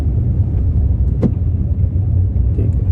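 Car driving in second gear after a downshift, a steady low rumble of engine and road noise close by, with a brief sharper knock partway through and no talking.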